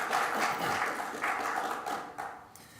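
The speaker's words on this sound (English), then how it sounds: "So, give Robert a warm applause." Audience applause for a speaker at a conference, a steady wash of clapping from a seated crowd that holds for a few seconds, then fades and thins toward the end.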